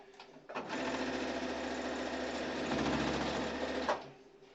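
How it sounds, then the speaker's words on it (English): A sewing machine whirs steadily for several seconds stitching an embroidered face mask, starting abruptly and stopping near the end, loud and close with no talking. "we can take this over here to the sewing machine"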